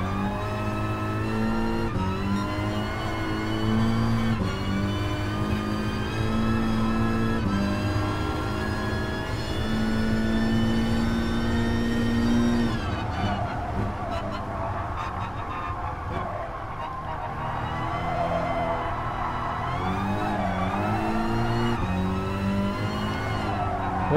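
A front-wheel drive car's engine in a sim racing game, near-maxed on horsepower, drones steadily with harmonic revs rising and falling through throttle changes and shifts for the full length, loud and continuous with no talk.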